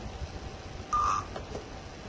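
A single DTMF key tone from an analog telephone on a VoIP network, a short bright beep rising briefly above a faint steady background hum.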